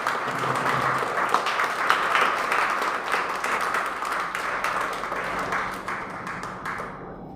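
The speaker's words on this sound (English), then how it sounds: "So let's give her a big hand of applause." An audience applauds after a lecture on Kathak dance and poetic thumri. The clapping is steady, moderately distant and roomy, and it thins and fades out near the end.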